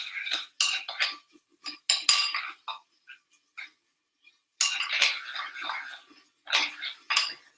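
A utensil stirs a thick honey sauce mixture for Thai-style meatballs, giving bursts of clinking and scraping against the bowl, with short pauses between strokes.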